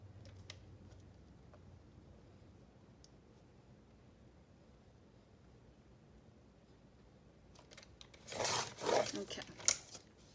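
Paper being trimmed for a handmade envelope folio craft: after a long, quiet stretch of faint room noise, a short burst of crisp cutting and rustling comes close to the end, then a couple of sharp clicks.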